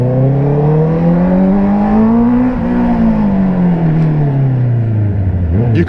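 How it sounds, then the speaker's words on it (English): Honda CBR650R motorcycle with an inline-four engine and aftermarket exhaust revving, a loud, close, smooth wail that rises, falls, then climbs again, heard alone without talk. "You can't beat that inline 4 sound, especially when you've got an exhaust."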